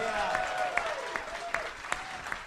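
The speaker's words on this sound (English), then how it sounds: "Clap one more time for Rafael, everybody." A comedy club audience applauds a comedian as he takes the stage, a steady wash of clapping with a few sharp individual claps standing out and a voice speaking over it.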